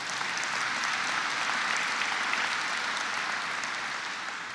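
Audience at a 2014 political campaign event clapping in a steady, dense wash of applause that holds for several seconds and then eases slightly, with no voices over it.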